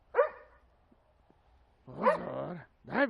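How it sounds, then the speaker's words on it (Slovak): A dog barks loudly and close by: a sharp bark, a pause, then a longer harsh, growly bark and a final short bark. "Štekaj, štekaj, štekaj."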